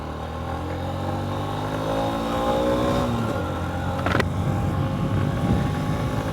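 A Honda 125cc motorcycle rides along, its engine a steady, loud drone that gently rises in pitch as it heads toward the freeway, with a brief sharp click partway through.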